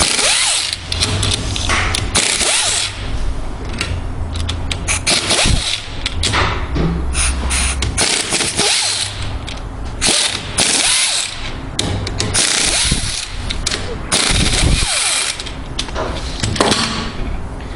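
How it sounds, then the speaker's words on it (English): 9/16 air impact wrench removing bolts during M16 disassembly, a loud, close, continuous mechanical rattle and buzz with a steady hum throughout and repeated gritty bursts, no talking. "take the 9/16 air impact"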